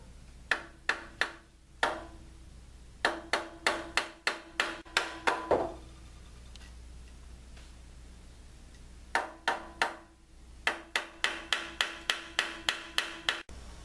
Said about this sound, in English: If you use like a hammer like this, you don't wanna hit it hard.